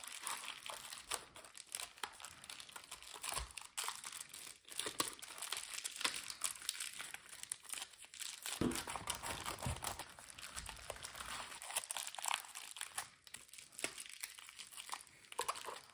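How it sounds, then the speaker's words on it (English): Bubble wrap crinkles and crackles continuously while a crystal order is wrapped and packed, a close, steady rustling texture with no talking. "there is their order all bubble wrapped up"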